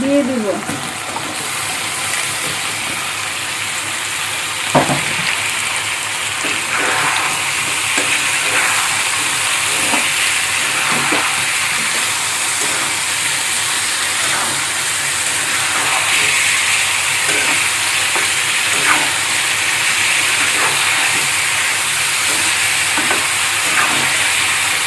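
Bottle gourd pieces go into a hot pan with onion and garlic paste, setting off a loud, steady sizzle with occasional stirring scrapes, while a voice speaks briefly over the frying.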